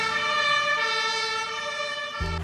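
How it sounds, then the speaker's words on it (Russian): An ambulance siren on a Berlin street wails with a steady high-pitched tone close by, loud and continuous, a low engine rumble joining near the end. "Нет, это не пожарные, это скорая."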